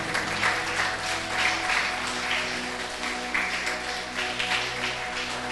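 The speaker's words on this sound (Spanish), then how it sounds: "Denle un aplauso al Señor Jesús." A church congregation applauds for a sustained stretch, dense steady clapping filling the room, with a faint voice over it.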